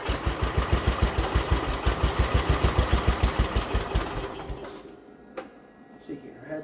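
Restored 1979 John Deere 216 lawn tractor with hydraulic lift, its small engine chugging in a fast, even rhythm after a carburetor adjustment, close and loud, then cutting out and leaving near silence with a few faint clicks.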